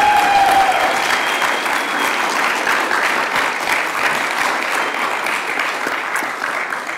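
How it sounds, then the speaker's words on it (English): An audience at a conference session gives one more round of applause, loud, dense clapping from a large crowd that holds steady for several seconds and slowly thins toward the end. "Can you guys give them one more round of applause?"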